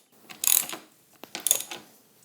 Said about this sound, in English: I'm just going to snug up these bolts a little bit so they don't move on us.